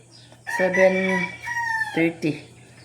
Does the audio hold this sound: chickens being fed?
yes